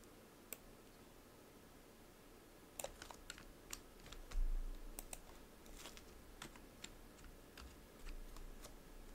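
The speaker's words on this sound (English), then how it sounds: "Let's type this class name." Quiet computer keyboard typing, with scattered clicks and short bursts of keystrokes against a low room hiss, close but soft.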